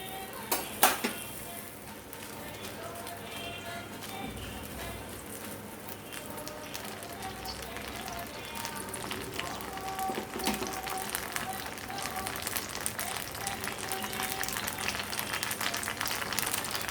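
Red chilies frying in hot oil in a kadai, a steady crackling sizzle that builds gradually over time, with an occasional clink of a utensil against the pan near the start.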